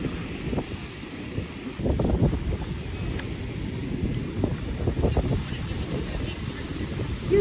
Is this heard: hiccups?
no